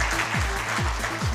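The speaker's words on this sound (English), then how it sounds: "A big round of applause for all of us" Audience applause fills a hotel event hall, a dense steady clatter of clapping heard up close over a low musical drone, with no pauses across the short stretch.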